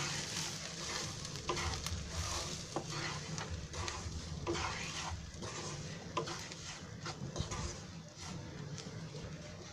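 Semolina is stirred into fried vegetables in a pan for upma, giving a dense steady sizzle with constant scraping and shuffling of the spoon and light clinks, close and even, with no talking.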